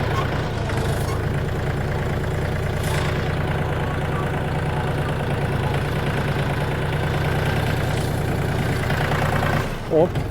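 A DTZ 5244HPX minitractor engine runs steadily and loudly while reversing up a hill, a constant low throbbing drone that holds throughout with little change, a brief bump near the end.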